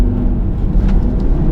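A Cupra Formentor VZ5 five-cylinder engine pulls hard from inside the cabin, a loud, dense and continuous low rumble that stays steady throughout, with no talking.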